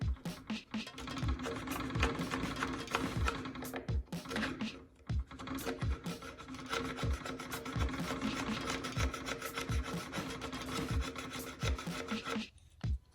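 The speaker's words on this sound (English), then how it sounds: "we'll just use a chisel to kind of clean that up a little bit" A chisel scraping ridges out of a carved wooden channel for a replica sword's hilt, giving a steady run of rough rasping strokes with short sharp catches, close and continuous.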